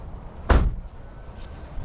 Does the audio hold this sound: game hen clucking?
no